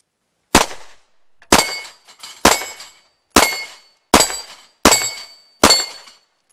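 Seven sharp, loud gunshots from a Smith & Wesson 6906 9mm pistol fired at a range, spaced roughly a second apart, each crack followed by a brief ringing decay.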